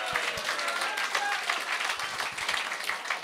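Studio audience applause during a podcast taping, a sustained patter of many hands clapping at steady volume, with a few sharper individual claps standing out near the front.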